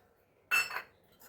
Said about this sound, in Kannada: ನೋಡಿ, ಬಟಾಣಿ ಸೇರಿಸ್ತಾ ಇದ್ದೀನಿ.